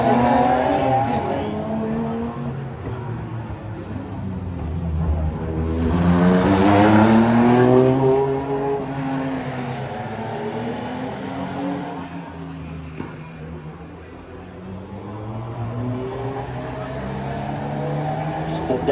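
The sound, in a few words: race car passing, Datsun Triple S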